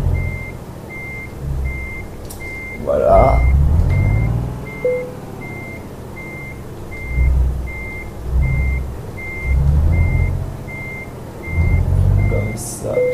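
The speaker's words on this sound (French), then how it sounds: "Donc on va faire notre marche arrière tranquillement." A truck backs up slowly while its reversing alarm beeps in a steady, evenly spaced series over the low rumble of the engine, with someone speaking briefly in French between engine surges.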